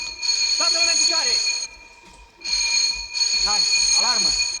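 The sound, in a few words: ship alarm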